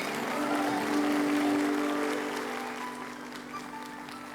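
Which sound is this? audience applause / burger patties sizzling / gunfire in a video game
audience applause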